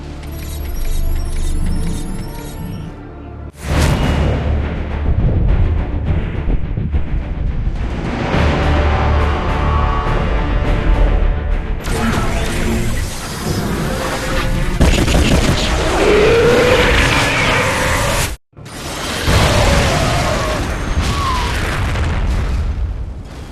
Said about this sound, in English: Prepare for orbital strike.